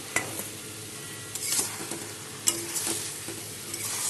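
Pre-fried eggplant added to a pan of fish curry, with a low steady sizzle under scattered scraping stirs and a couple of sharper clinks, quiet and without voices.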